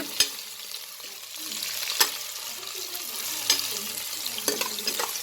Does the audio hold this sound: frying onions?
yes